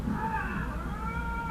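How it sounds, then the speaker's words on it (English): Two lynx yowling at each other in a territorial fight, long wavering human-like cries that rise and fall continuously and loudly, close by. "So these are 2 lynx cats. I assume they're probably males fighting over territory."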